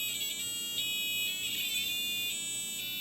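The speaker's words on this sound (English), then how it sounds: "The speaker beeps at a frequency matching the note for that key." The speaker of an infrared piano beeps electronic tones, a series of short bright notes that shift pitch, fairly faint and steady.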